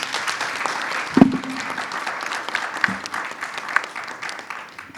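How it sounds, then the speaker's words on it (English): A conference audience claps steadily, a dense patter of applause that gradually thins and fades toward the end. "we should give a round of applause for our panelists and the audience"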